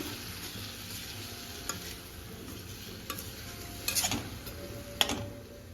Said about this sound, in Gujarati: આ રીતે ચમચાની મદદથી બધું બરાબર મિક્સ કરી લઈશું